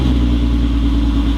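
A Volkswagen GTI VR6 engine with a muffler delete runs with a loud, close, low throbbing rumble that holds steady throughout.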